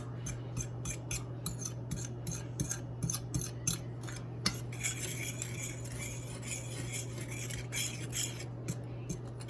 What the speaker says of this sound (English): Just kind of whisk it together.